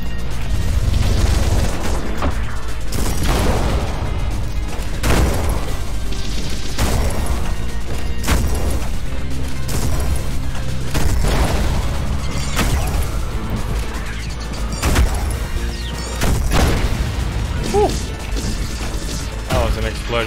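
Explosions and heavy crashing impacts in the shooter video game Ultrakill, loud repeated booms and smashes over dense game noise, with a man briefly exclaiming in between.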